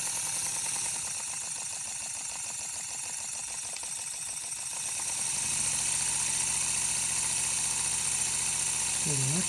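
A Stuart D10 model steam engine fitted with reversing gear runs on compressed air with a steady, rapid mechanical chuff and hum. The pitch and rhythm shift partway through, and a short voice is heard near the end.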